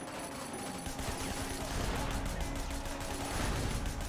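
Rapid bursts of gunfire in the video game Sleeping Dogs, shots fired at a tire, dense crackling volleys that grow louder partway through, with no talking.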